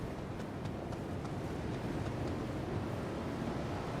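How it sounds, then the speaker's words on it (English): Strong wind gusting in a video game, a continuous broadband roar with surf-like swells, steady and fairly loud, with no voices. "It's super windy."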